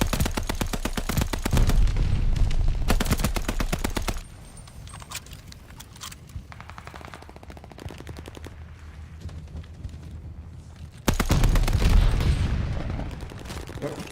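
In Call of Duty Vanguard an NZ-41 rifle fires in rapid automatic bursts, loud at the start and again near the end, with quieter rattling shots in between.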